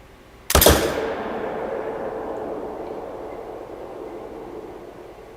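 A close, sharp rifle report aimed at a buffalo in theHunter: Call of the Wild, a quick double crack followed by a long fading echo that rolls away over several seconds.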